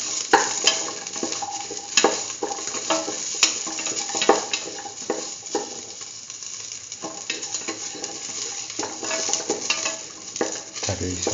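A spoon scrapes and stirs a curried chickpea and beetroot stew with ginger and salt in a pan, giving repeated clinks and rustling strokes over a soft, steady sizzle, close and fairly loud.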